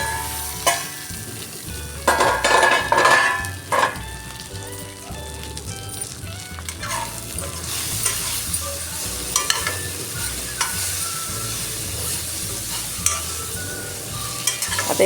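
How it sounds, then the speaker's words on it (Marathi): Bhindi masala (okra) frying in an open, uncovered pan: a steady close sizzle runs throughout, with scraping stirs and clatters of a spatula against the pan near the start. No one speaks. "आता एक 5 मिनिट आपण ओपनच याला खरपूस असं भाजून घेणार आहोत."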